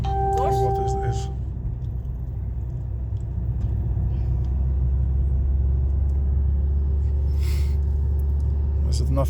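A car rolls along during a beginner's driving lesson, with a steady low engine and road rumble throughout, and a few brief higher tones near the start.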